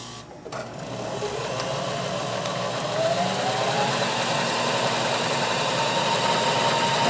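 A Janome HD3000 sewing machine runs steadily through a stretch stitch seam, its motor whirring in a continuous close, even drone that builds slightly and holds, with a brief softer start and no talking.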